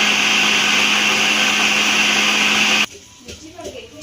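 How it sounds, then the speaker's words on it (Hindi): A mixer grinder runs loud and close, grinding fried spices with a steady high whine for nearly three seconds, then cuts off abruptly, leaving faint rattling and handling noises. "इस तरह मिक्सर में डाल के ग्राइंड कर लेंगे।"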